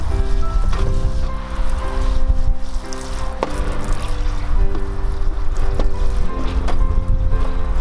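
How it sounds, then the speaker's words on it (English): Animal bowls scrubbed out under a running garden hose, with a steady, loud rush of water and scraping that carries on without a break. "Then I take them over to the hose and I scrub everything out."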